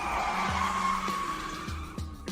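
Tires squeal in a long skid, a bright sustained screech under a car engine, with a few sharp downward sweeps near the end and no voices.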